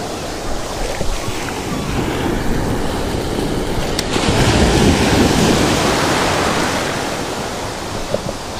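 Ocean surf rolls onto the beach at Hilton Head Island in a continuous loud wash, a wave building and breaking midway, mixed with wind buffeting the microphone.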